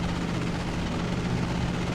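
A steady, droning aircraft engine hum from an airplane in a video game, constant and fairly loud throughout, with no talking.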